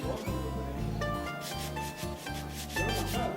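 Exterior wall putty is lightly sanded by hand ahead of priming, producing a steady rough rubbing texture close to the surface, while a constant low hum runs underneath throughout.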